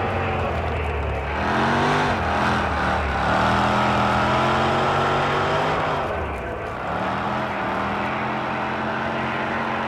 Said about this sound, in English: and a supercharged V8. Very great combination, sounds awesome